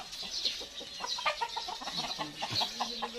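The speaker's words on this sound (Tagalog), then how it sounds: "Ayan yung alaga niya mga manok." Several chickens cluck and chatter close by in a busy, continuous flock murmur, with soft bird calls overlapping throughout.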